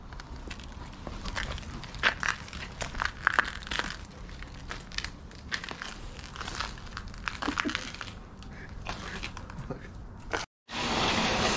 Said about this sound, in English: Ozzy is just cleaning around to make sure that the glass pieces are not going to be on the way